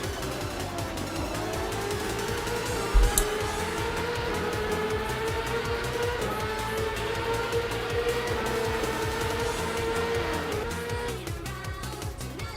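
Race cars in a CorpoCar World Series video game event, tracks at Yeongam, Michigan and Sachsenring, with a sustained engine drone rising and falling steadily in pitch, close and loud throughout, plus a brief knock near the start.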